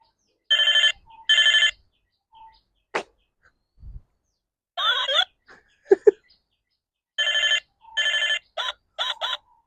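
An old 1990s landline telephone rings in two short electronic double bursts, then again in a quicker series, with brief clicks and a few scattered noises in between.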